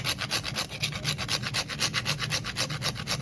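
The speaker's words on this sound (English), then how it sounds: "So we're just grating some fresh nut." Fresh nutmeg is rubbed against a grater in quick, rhythmic strokes, a close, dry rasping that repeats about six times a second with no voices.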